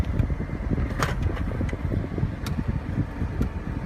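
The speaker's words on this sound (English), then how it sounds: "AC in the vehicle is blowing cold." Air conditioning blowing inside a GMC Suburban diesel, a steady airy fan rush with faint intermittent clicks and ticks, moderate in level and continuous throughout.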